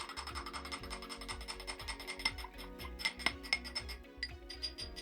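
A spoon stirs a peach Bellini of peach puree and Prosecco in a glass, giving a steady run of quick, close clinks and ticks against the glass for several seconds, with no voices.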